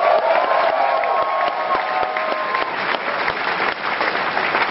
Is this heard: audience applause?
yes